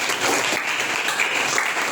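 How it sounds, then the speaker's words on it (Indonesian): A classroom of students claps together during a history lesson, a brief burst of steady, even applause lasting a couple of seconds. "Tepuk tangan untuk teman-teman."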